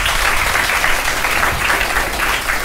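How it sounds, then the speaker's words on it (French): Steady applause from a crowd at the First Global robotics competition, loud and dense, sustained without a break. "On les applaudit, s'il vous plaît."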